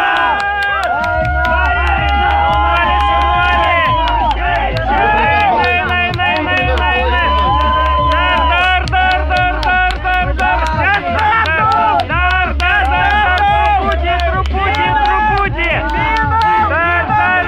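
An audience at a race start cheers, shouts and whoops continuously, with loud rhythmic clapping and excited voices carrying throughout.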